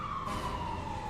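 An ambulance siren holds a steady, loud wail whose pitch drifts slightly downward, close by and continuous throughout, with no voices.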